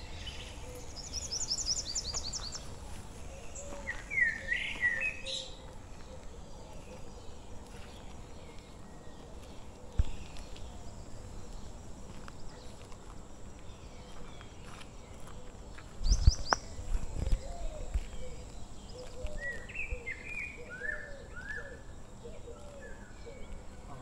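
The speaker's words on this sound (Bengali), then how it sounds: "চুপ থাকলে পুরো পাখির ডাক ভর্তি" Birds call faintly in the morning countryside around Pakhi Pahar in Purulia, scattered chirps and short whistled phrases over a soft open-air hiss, with a brief nearby rustle midway.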